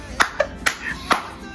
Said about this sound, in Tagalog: manual palakpak tayo